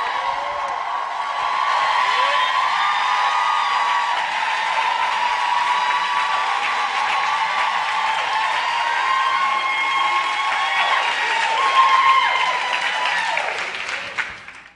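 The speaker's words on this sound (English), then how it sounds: "join me in a tremendous round of applause for these brothers behind me" Sustained applause with cheering and whoops from a church congregation, loud and steady for about fifteen seconds with a swell near the end, then tapering.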